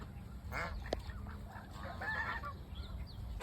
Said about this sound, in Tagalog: Ito gansa. Tsaka may Peking duck.